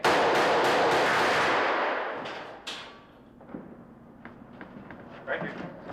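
Blank gunfire and squib bullet hits on a film set, a rapid burst of loud close shots lasting about two seconds, then a few scattered thuds and knocks as a voice speaks.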